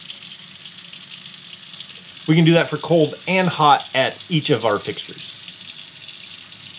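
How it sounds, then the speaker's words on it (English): RV faucet running bleach water from the fresh water tank, a steady faint stream of water under a voice explaining briefly in the middle. "we just need to turn on the faucet here until we smell bleach"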